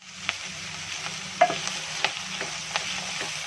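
Vegetables sizzle in a frying pan while a utensil stirs them, with a constant hiss broken by a few sharp scraping knocks against the pan, close and clear with no speech.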